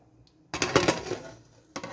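A lid goes onto a pot of nasi mandhi with grilled chicken, giving a sudden near metallic clatter that rings briefly, then a second short clank a moment later.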